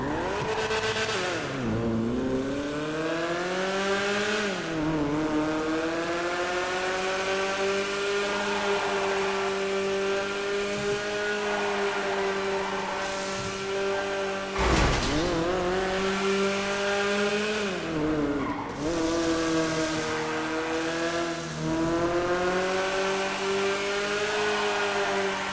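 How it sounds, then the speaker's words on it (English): A Grotte Stinger sports car is test driven in a video game, its engine revving loud and steady with rising and falling pitch across several gear shifts, alone with no talk. "It's a sports car, which is going to be the Grotte Stinger."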